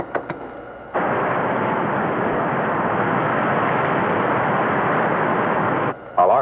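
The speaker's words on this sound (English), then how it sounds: "Prepare to fire a starboard rocket." Radio-drama spaceship firing a starboard rocket, a sudden loud roaring blast that holds steady and dense for about five seconds and then cuts off abruptly, with no voices over it.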